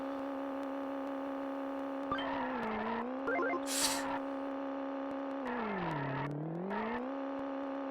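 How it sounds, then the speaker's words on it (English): Looping car engine drone in the SNES game Micro Machines 2 holds a steady synthesized hum that dips and swells in pitch, with brief blips and a short hiss burst over it. "Instead, we just get car rev noise repeated 800 times."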